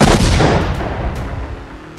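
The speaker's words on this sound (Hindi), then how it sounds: "दक्षिणी लेबनान में पहला धमाका" A bomb explosion in southern Lebanon during Israeli strikes on the village of Kafar Kila: one loud, heavy boom that rolls off into a long, decaying rumble.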